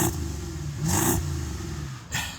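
A warmed-up BMW X6 engine is blipped in a short, moderate rev that rises and falls once, heard fairly quietly at close range with no voices.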